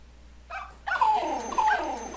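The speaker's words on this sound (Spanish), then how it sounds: "Oh, un perrito." A small dog barks and whimpers in Super Mario Maker: a short yip followed by two louder, whining barks with falling pitch, close and clear with no talking.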